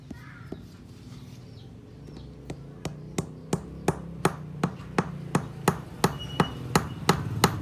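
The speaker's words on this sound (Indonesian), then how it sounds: "Sudah dipaku ya teman-teman." A nail is hammered into a whip (pecut) with a series of sharp metal strikes, slow at first and then a steady fast rhythm of about fifteen close, loud blows over a low background hum.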